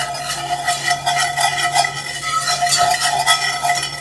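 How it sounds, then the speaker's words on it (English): A whisk stirring a roux in a cast iron pan, continuous close scraping and swishing strokes at an even rhythm, loud and alone. "Time to get out our whisk."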